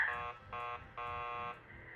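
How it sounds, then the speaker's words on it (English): Door buzzer at a building entrance rung in three bursts, a harsh steady electronic buzz stopping and starting, the middle burst shortest and the last longest, faint and alone. "keep calm and ring the buzzer"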